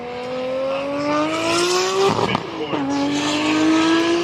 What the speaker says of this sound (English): unlike many 86s, this one still has its factory-fitted engine